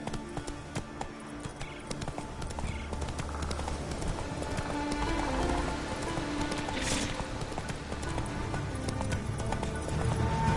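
The horse Roach in The Witcher 3 trots with steady clip-clopping hooves, close and continuous, with an occasional brief whinny and ambient game sounds behind.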